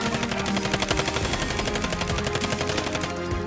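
Video game gunfire from a long-range shot comes as sustained, loud, rapid automatic bursts with a steady, rattling rhythm.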